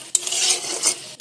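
Potatoes for dahi paneer masala are stirred in a hot pan with a soft sizzling hiss, framed by two sharp metal clanks of a spoon against the pan, close and without talk.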